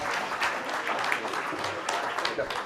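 Audience applause after a panel of speakers at a science policy meeting, a steady wash of clapping lasting throughout, fairly close and evenly sustained with no distinct voices standing out.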